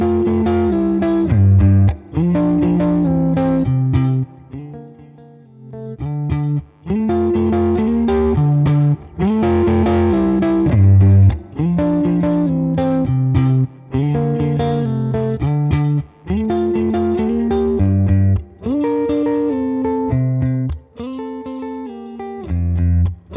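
Electric guitar played through a Tone King Imperial MKII amp, a loud sustained passage of chords and melodic lines with effects, heard alone without talking.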